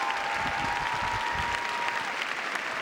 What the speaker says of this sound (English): lukewarm applause here